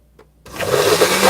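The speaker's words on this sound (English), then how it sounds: "Doesn't seem to move it all around at once because it's a little bit thick for the blender." A blender starts abruptly after near silence and runs loud and steady, straining as it churns thick homemade cream cheese, close up.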